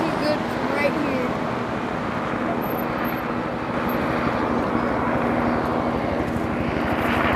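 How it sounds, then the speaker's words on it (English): A firefighting helicopter closes in over a wildfire near a housing tract in El Cajon, California, its engine and rotor drone steady and fairly loud as voices talk over the noise. "Chopper 10 is on his way."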